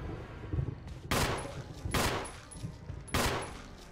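Gunshots ring out in Resident Evil on Switch as a few loud, separate blasts about a second apart, with ringing tails over a low game background.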